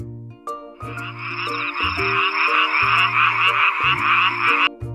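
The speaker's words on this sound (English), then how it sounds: "It's a frog." A rhythmic, buzzy frog croak repeats over a bouncy music backing, fairly loud and up front.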